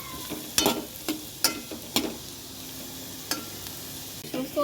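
Beetroot softening in oil in a pan, a low steady sizzle under a handful of sharp clacks and scrapes as it is stirred at irregular intervals, close by with no talking.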